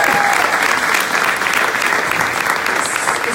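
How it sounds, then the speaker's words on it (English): A live audience gives a loud, steady round of applause for a behind-the-scenes crew member, dense clapping filling the room without a break. "so give her a clap"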